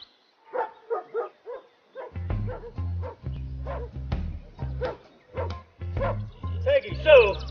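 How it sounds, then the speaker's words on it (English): A dog barks repeatedly at squirrels in quick yips and woofs, close by, with a voice talking over the barking. "Oh, stinking dog. Always barking at the squirrels."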